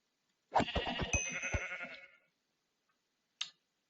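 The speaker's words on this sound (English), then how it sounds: "I can see a few sheep" A sheep in the Minecraft-like game Hungry World gives one loud, wavering bleat lasting about a second and a half, followed after a pause by a brief faint game tick.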